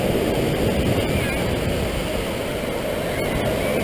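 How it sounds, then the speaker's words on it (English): Waves rolling in toward shore at high tide on Muizenberg Beach, Cape Town, a steady broad wash of surf close by, with wind noise on the microphone throughout. "It's getting high tide. You can see the waves are coming in further into the shore."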